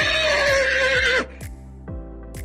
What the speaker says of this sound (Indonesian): Mungkin kamu sering dengar kuda meringkik.